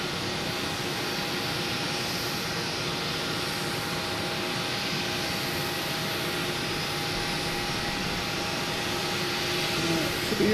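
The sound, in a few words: JetBlue Airbus A321neo jet arriving at Boston Logan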